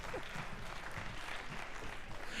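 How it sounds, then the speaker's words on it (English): An audience applauding steadily at a high school jazz concert, dense clapping filling the whole short stretch at moderate volume. "give yourselves a round of applause"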